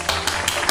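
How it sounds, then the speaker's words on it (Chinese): Four quick, sharp hand claps in a steady rhythm at a home guessing game, close and moderately loud with no voices. "给个掌声他"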